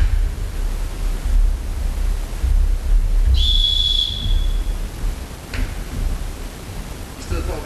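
Referee's whistle blown once in a sports hall during a ball game, a single sharp sustained blast of about a second and a half over steady low hall rumble and background noise.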